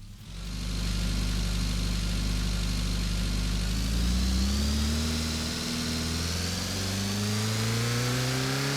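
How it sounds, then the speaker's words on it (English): A simulated car engine built from layered recordings hums steadily and then revs up, its pitch climbing smoothly as RPM increases, a continuous close drone with no one speaking. "with a simple variable called RPM, you can actually change how the engine sounds"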